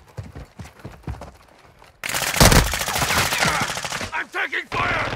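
Rapid bursts of gunfire in a Call of Duty Warzone DMZ match, loud and close after a quiet opening, with repeated shots crackling over several seconds.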